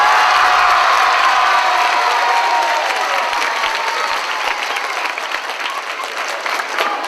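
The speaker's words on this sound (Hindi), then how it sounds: "हम सभी इस चित्र के लिए बधाई देते हैं और जोर से ताली बजाते हैं" A church congregation gives loud, sustained applause in congratulation, a dense wash of many hands clapping that continues steadily throughout with a faint tone over the start.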